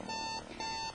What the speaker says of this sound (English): If something doesn't get done about that alarm,